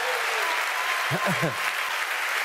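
Steady applause from an audience at the Magritte awards ceremony in Belgium fills the whole stretch at an even level, with a brief voice breaking through near the middle.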